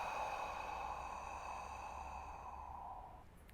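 A slow, steady exhalation of breath during a conscious breathing exercise, a soft airy hiss that holds for about three seconds before trailing off, close and quiet with no talking.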